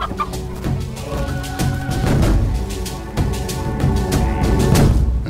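Chickens cluck steadily while birds are being fed, a busy, close flock with repeated short calls and scratching, no voices.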